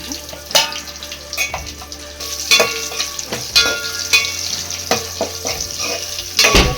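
Whole spices including cardamom, black cardamom, star anise, stone flower, kasuri methi, bay leaves and cashews fry in oil in a pan for paneer masala, with a steady close sizzle and scattered sharp clinks of a spoon stirring.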